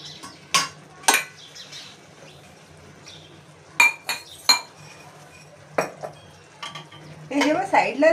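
A spoon stirring masala in a metal pan, sharp separate clanks against the pan spaced out over several seconds, then a busier stretch of scraping and clinking at the end, close and clear.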